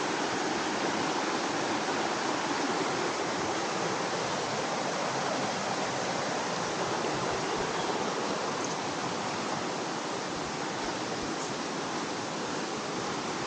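A river at the Sungai Pertak picnic spot near Kuala Kubu Bharu rushes steadily, a dense, even wash of flowing water that continues without a break.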